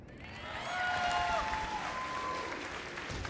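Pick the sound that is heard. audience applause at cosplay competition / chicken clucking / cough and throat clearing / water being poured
audience applause at cosplay competition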